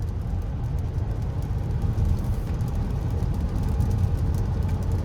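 A 2021 Toyota RAV4 Prime XSE in EV mode accelerates onto a highway, giving a steady low road and motor rumble that builds slightly, with no engine roar and no talk.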